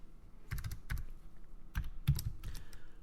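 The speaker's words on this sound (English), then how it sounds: "A lot of typing happening." Bursts of typing on a computer keyboard while working in Excel VBA, close and clear, arriving in quick clusters of keystrokes separated by brief pauses.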